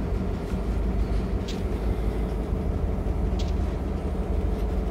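A manifest freight train hauled by a Union Pacific GP38 on the Hollister Branch in Train Simulator, with a steady rolling rumble of wheels and cars and occasional faint squeals, continuous and fairly close.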